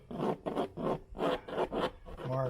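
A marker or pencil rubs in short, rhythmic back-and-forth strokes against a template on an RV compartment door, close and distinct, with no talking.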